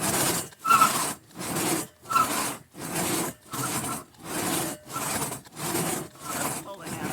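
A hand saw cuts through wood that is nearly severed, making about ten even, rhythmic rasping strokes, each followed by a short pause. The sawing sounds close and clear, with no other noise competing.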